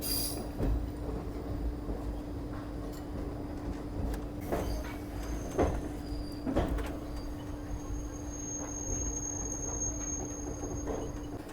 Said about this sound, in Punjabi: ਇੱਥੇ ਹੁਣ ਟ੍ਰੇਨ ਰੁਕੂਗੀ ਆਪਣੀ ਪ੍ਰਯਾਗਰਾਜ ਜੰਕਸ਼ਨ